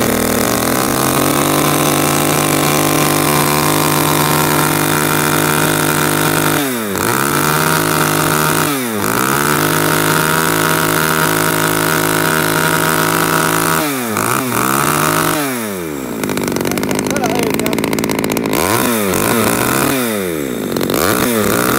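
A used Japanese Hitachi chainsaw engine runs loudly and close, a buzzing two-stroke drone that idles steadily and then revs up and down several times in sweeping surges.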